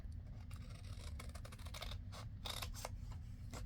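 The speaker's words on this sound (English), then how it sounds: "Maybe I ought to cut it with my scissors." Scissors snip through a sheet of paper along score lines while a folio is being made, giving a handful of faint, close, crisp cuts over a low steady hum.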